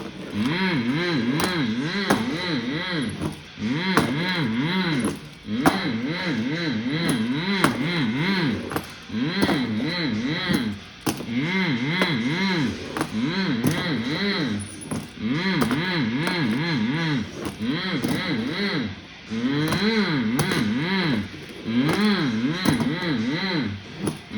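Monster truck engine roaring through repeated rising and falling revs during a sky wheelie run at a Monster Jam arena event in Des Moines, loud and sustained with short dips between bursts.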